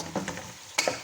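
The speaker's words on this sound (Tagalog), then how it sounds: "Halo na natin yung karne" Meat frying in a pan is stirred, giving a few soft scraping strokes over a steady sizzle, with a sharper clatter near the end; close and moderately loud, no talking.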